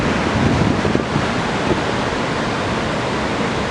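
Continuous rushing surf of ocean waves about 1.2 to 1.5 metres breaking, steady and broadband, with some light west-northwest wind noise on the microphone and no voices.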